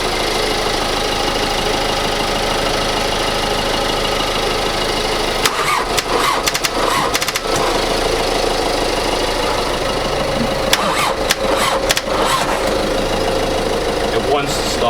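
Seat Leon FR engine cranking and trying to catch, a steady labouring churn with sharp clicks and irregular bursts partway through, loud and close throughout.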